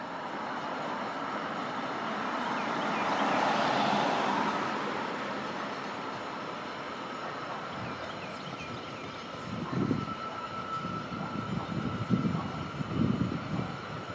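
Cable-hauled incline railway car on Lookout Mountain in Chattanooga, a steady mechanical rumble and swelling whoosh as the car passes, then irregular clattering and thumps later on, no speech heard.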